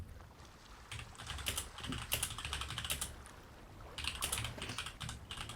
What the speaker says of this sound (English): That's one loud keyboard.